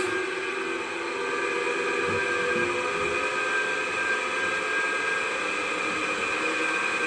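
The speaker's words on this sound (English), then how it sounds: "the motor has started now" A DC shunt motor runs in an electrical lab on an armature supply of about 200 to 210 volts, giving a steady, loud, continuous hum with a sustained whine throughout. No one speaks.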